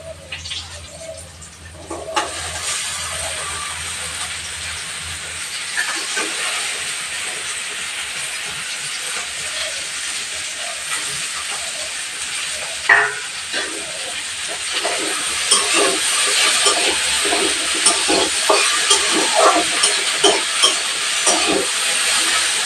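Taro flowers and potato pieces hit hot oil in a pan with a sudden loud hiss that settles into continuous sizzling, broken by occasional clatters of a utensil, close and unaccompanied by talk.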